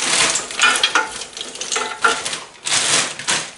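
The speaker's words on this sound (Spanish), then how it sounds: "Vamos a echar ahí unas patatitas." Potatoes tipped into an air fryer basket: a rough rattling, clattering pour with a scraping rustle, close and fairly loud, in two main bursts with a brief pause between and no talk.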